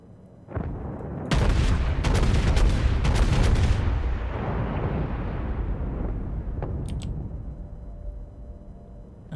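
Heavy naval guns of the battleship USS Texas fire in World of Warships: a sharp shot, then a thunderous close salvo of overlapping booms that rumble on and slowly fade into a long low tail, without talking.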